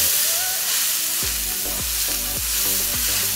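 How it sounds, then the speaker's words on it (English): Finely chopped red onions and green chilies sautéing in a cast iron skillet, a steady close sizzle with several scraping stirs repeating at an even pace, no talking. "So in goes 2 red onions, finely chopped up. Just swish and stir away."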